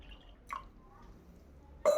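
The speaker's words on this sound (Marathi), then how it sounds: "घटामध्ये आता आपल्याला पाणी टाकायचं आहे" Water pours into a ritual ghat pot in a short splash, followed by a quiet pause and then a louder burst of pouring near the end, with no talking.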